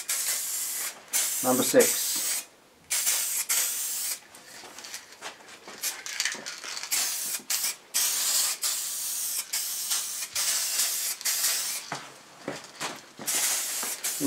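Spray can applying a final coat to a bash plate in a garage, with close hissing bursts of varying length, some brief and some sustained, while someone talks between passes.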